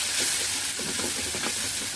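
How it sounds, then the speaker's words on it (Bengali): Spices sizzle loudly in hot oil, a dense continuous frying hiss with no voices. "মশলাগুলো একটু ভালোভাবে তেল ভেজে নিব"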